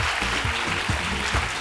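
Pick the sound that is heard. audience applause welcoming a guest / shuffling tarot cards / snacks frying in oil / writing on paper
audience applause welcoming a guest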